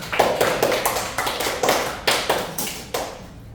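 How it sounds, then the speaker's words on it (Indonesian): Students in a classroom break into applause, a dense run of hand claps with several swelling bursts over a few seconds, fading at the end. "Tepuk tangan semuanya."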